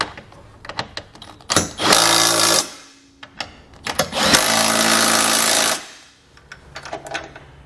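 Bursts from a power tool driving a 17mm socket to tighten the bolts of a Curt trailer hitch on a 2020 Kia Sportage, two long whirring runs with short taps between them, close and loud.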